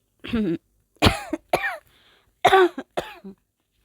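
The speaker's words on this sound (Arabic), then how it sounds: "دي اول كحة كحة معاكم" A few short, harsh coughs in quick bursts, close up, with brief pauses between them.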